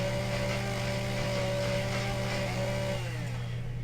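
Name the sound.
chainsaw cutting trees in video game Empyrion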